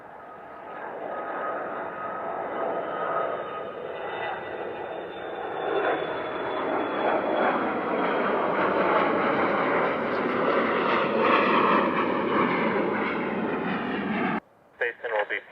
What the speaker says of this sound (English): This is a Gulfstream 4,